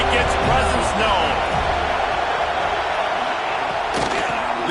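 Stadium crowd roar in a college football video game, a steady broad wash of cheering held throughout at even loudness, with a commentator talking over it.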